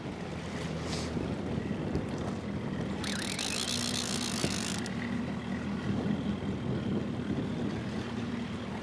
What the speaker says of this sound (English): we're just on the trolling motor now